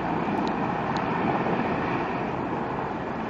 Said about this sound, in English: And finally our helicopter arrives.